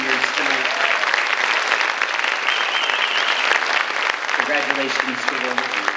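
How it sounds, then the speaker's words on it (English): An audience at a high school scholarship night gives the seniors loud, sustained applause, a dense steady wash of clapping across a crowded room with some crowd noise mixed in. "Well, a nice round of applause to all 68 of our seniors tonight."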